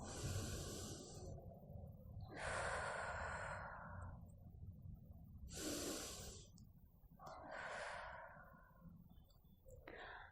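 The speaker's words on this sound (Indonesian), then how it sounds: "tarik nafas lewat hidung dan hembuskan nafas perlahan melalui mulut" Slow guided breathing: air drawn in through the nose and then let out slowly through the mouth, repeated over several close, soft cycles with pauses between.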